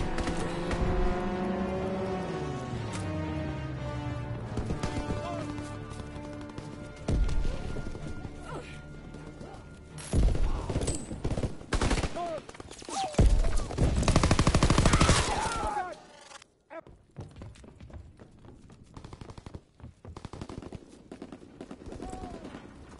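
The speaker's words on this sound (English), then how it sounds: "Enemy strafing run incoming" Heavy bursts of gunfire and impacts from an enemy aircraft strafing run in a WWII shooter game, arriving in loud clustered volleys over a tonal background, with scattered talk.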